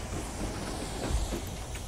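A Minecraft minecart train rolling along with a steady rumbling rattle and low hiss, continuous and fairly close, with no voices.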